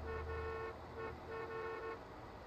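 Car horn honking in the driving game Taxi Life, a steady sustained toot that sounds in a few pulses over about two seconds against a constant low engine drone.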